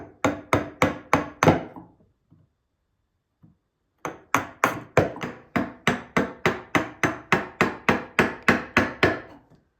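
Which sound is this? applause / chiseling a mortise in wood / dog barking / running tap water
chiseling a mortise in wood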